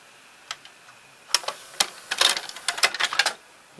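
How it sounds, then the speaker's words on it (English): Toshiba M659C VCR ejecting a tape: a run of sharp mechanical clicks and clatters from the loading mechanism, sparse at first, then a dense burst of rattling ticks, close and fairly quiet. "Okay, now it's ejecting."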